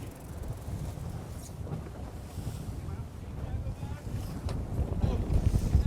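Strong wind roars continuously across the microphone aboard a sailboat during a match race off Sweden, with water and hull noise beneath, steady and growing slightly louder toward the end.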